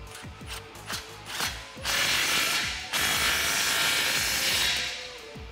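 A ratchet with a 15 mm socket tightens an exhaust clamp on a muffler delete for a 2009-2018 RAM 1500 5.7L, giving a series of close, rapid clicking strokes followed by sustained louder ratcheting bursts.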